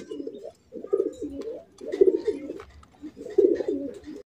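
A light-coloured Afsan grizzle racer pigeon coos in four soft, throaty phrases with short pauses between them, close by and fairly clear over a quiet background.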